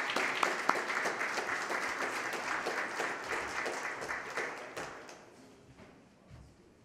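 Audience applause welcoming a plenary speaker in a conference hall, dense steady clapping from many hands that swells briefly and then fades away over the last couple of seconds.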